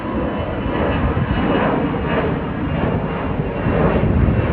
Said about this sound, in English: That last plane that flew to Fort Lauderdale was Air Canada Rouge.